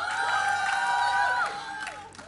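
Spectators at a League of Legends grand final esports tournament cheer and shout with high, sustained whoops that fade after about a second and a half, and scattered calls continue.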